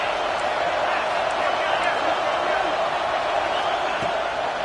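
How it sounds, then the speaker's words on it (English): Dense, loud stadium crowd roaring steadily throughout at a college football game, cheering on the defense before a big third down, a broad unbroken wash of voices with no clear pauses. "Big 3rd down as the crowd gets behind this defense."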